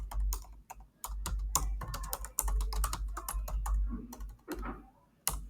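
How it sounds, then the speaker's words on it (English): Quick, irregular clicks of keys on a computer keyboard, close and clear, bursts of typing with brief pauses, no talking. "You can type in what you wanted to say."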